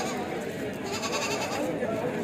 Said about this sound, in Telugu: మేకలు.